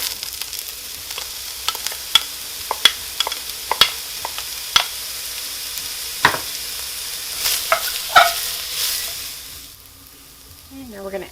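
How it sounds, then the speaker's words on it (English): Onions hit hot olive oil in a Dutch oven over medium heat and give a steady sizzling hiss. Sharp clicks and scrapes from stirring cut through it, and the sizzle fades and softens near the end. "And it's hot, so we're ready to add the onions."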